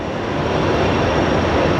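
A Boeing 767 lands at Sky Harbor International Airport, producing a loud, continuous broad jet roar that holds steady and close throughout.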